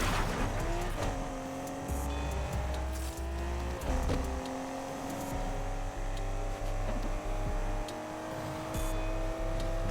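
A car revs and accelerates in the racing video game Need for Speed Unbound, with a loud engine drone, rising pitch sweeps through gear changes and brief tire noise, continuous and alone.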